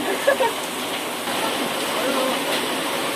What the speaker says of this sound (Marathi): इथे थांबलो या मामांच्या दुकानात पाऊस काय जाईना